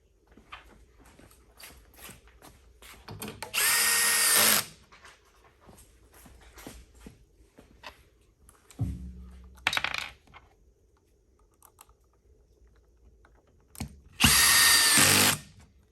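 Power drill driving screws during desk assembly, with three loud whirring bursts of a couple of seconds each, close by, separated by small clicks, rattles and handling noises.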